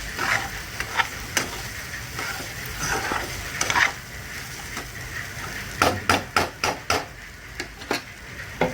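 Sabudana khichdi is stirred in a pan over a soft sizzle, the spoon scraping and knocking against the metal in a loose rhythm that quickens into a run of sharp taps near the end.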